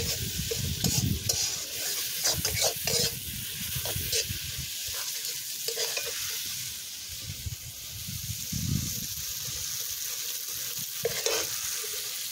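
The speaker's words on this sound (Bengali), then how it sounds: "এবার একটু জল দিয়ে নিচ্ছি।" Mutton curry masala sizzles and fries in a pan as water is added and a spoon stirs it, with scraping stir strokes and bursts of hissing over a steady frying crackle, close and fairly loud, no voices.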